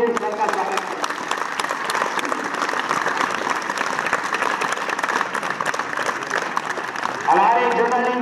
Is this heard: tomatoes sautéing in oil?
no